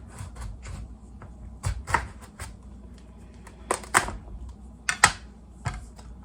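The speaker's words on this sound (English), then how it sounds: "we are going to take a sharp knife and cut them in half" A sharp knife cuts a washed carving pumpkin in half, giving a series of close, crisp cracking and snapping bursts, irregular and spaced out, with quiet pauses between.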